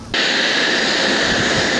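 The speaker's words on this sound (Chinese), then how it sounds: "IDF 战斗机挂弹升空，从台南空军基地起飞，巨大声响传遍天空。" An IDF fighter jet carrying munitions takes off from Tainan air base in Taiwan, a loud, steady roar that starts abruptly and holds at full strength, broad and hissing, with no talk.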